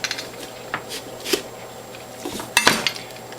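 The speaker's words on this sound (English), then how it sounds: "cut the bottom and the top out of my pumpkin" A knife slicing through a pumpkin on a cutting board, with a few sharp, clicky cuts and taps spaced apart and a louder cluster of chopping near the end, close and without talking.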